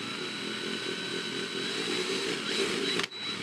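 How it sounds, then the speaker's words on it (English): An electric drill whirs steadily while slowly boring a small pilot hole for a homebrew pump mount, a near, continuous motor whine that cuts off abruptly near the end. "we will slowly start drilling into that to make a little pilot hole"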